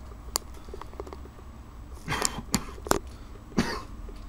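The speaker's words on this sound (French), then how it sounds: "excusez-moi de tousser un petit peu" Someone coughs a few times from lingering spray paint particles while camouflage-painting a plastic replica gun, short rough bursts close to the mic, spaced apart with quiet handling noises between.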